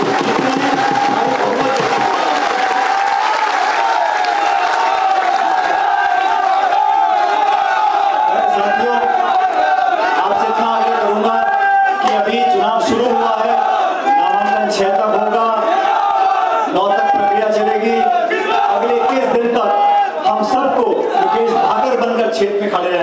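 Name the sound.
crowd applauding and cheering at political rally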